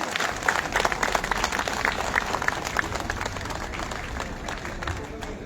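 A crowd of farmers at a public hearing in Bidadi applauds with quick, dense clapping close by, steady for several seconds and fading a little at the end.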